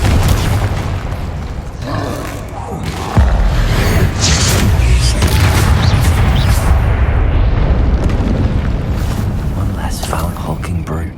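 A Confringo spell explosion in the Hogwarts Legacy video game: deep booming blasts, the loudest hitting about a quarter of the way in, over a dense roaring wash of battle noise, with a voice heard in the mix.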